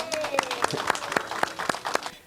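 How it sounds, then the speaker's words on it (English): A small audience gives a short round of applause at a storytelling program event, with sparse, distinct claps in an uneven rhythm, fairly quiet and close, fading out toward the end. "How about a round of applause for her?"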